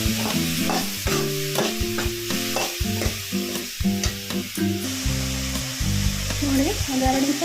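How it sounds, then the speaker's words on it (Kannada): Washed bitter gourd pieces sizzle in a hot pan while being stirred for a curry, a continuous close frying hiss broken by rhythmic spoon scrapes and clinks, with faint background tones underneath. "ಹಾಗಲಕಾಯಿ ಹಾಕಿ ಸ್ವಲ್ಪ ಚೆನ್ನಾಗಿ ಫ್ರೈ ಆಗಬೇಕು"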